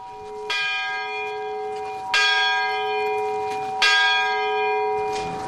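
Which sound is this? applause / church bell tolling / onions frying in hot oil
church bell tolling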